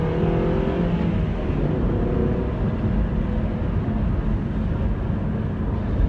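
A 2017 Mazda Mazda5 minivan accelerates with a steady engine drone and road rumble inside the cabin. The sound is continuous and fairly loud, with no talk.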